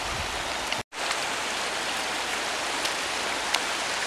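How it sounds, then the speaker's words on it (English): Waterfalls fed by melting snow pour down the walls of Milford Sound fjord in New Zealand's Fiordland, a steady, dense rushing wash with a single brief dropout near the start. "everything's starting to melt. And so there's waterfalls everywhere."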